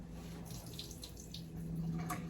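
Apple juice strained off soaked raisins at a kitchen sink, a steady trickle and splash of liquid running close by, with a low constant hum underneath and no talking.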